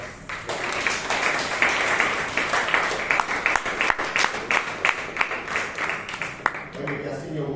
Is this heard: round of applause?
yes